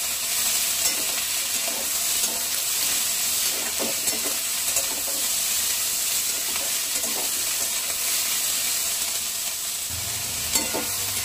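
Raw onion and green chilli tossed into a pan with fried prawns, a loud continuous sizzle and hiss with soft stirring scrapes throughout, close up and with no talk.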